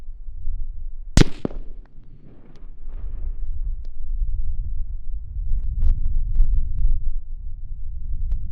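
A single sharp 5.56 rifle crack, fired with 77-grain open-tip match ammunition at a 25-pound clay block 200 yards away, rings out loud and brief over outdoor wind rumble, followed by faint scattered ticks.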